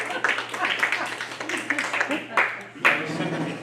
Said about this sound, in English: That was a sympathy clap, Steve.